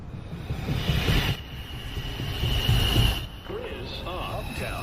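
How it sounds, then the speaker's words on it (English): A New York City Subway 2 train approaches the 215th Street station with a low rumbling, rolling roar and faint wheel squeal, while an automated announcement voice plays over the platform. "Downtown Express 2, train. Approaching the station, please stand away from the platform edge."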